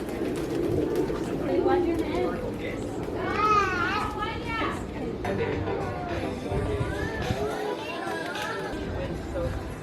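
A large flock of pigeons coos and flutters close by on a San Juan plaza in Puerto Rico, steady and busy throughout, under loud chatter from people and children.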